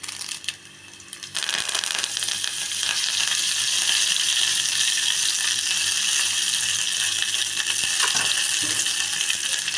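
Garlic and curry leaves crackle and sizzle in hot oil with mustard seeds and cumin for a mango sambar tempering, a loud steady frying hiss with scattered pops running throughout, no talking.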